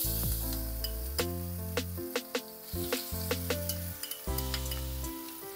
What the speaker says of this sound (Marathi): आता घालूया आलं, मिरची आणि कोथिंबीरीची पेस्ट।